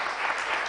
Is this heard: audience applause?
yes